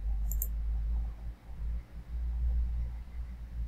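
A computer mouse clicks a couple of times in quick succession near the start while setting up a WordPress website, faint and close, over a steady low hum.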